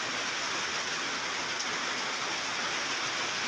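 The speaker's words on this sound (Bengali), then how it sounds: "প্রচুর বৃষ্টি, মেঘলা আকাশ।" Heavy rain pours onto a roof under a cloudy sky, a dense, constant hiss that never lets up and drowns out any other sound.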